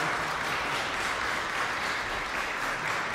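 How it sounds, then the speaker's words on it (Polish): Sustained applause from an audience at a chamber concert award ceremony, dense and even clapping filling the whole stretch with no talk over it. "Jest Bartek z nami, duże brawa."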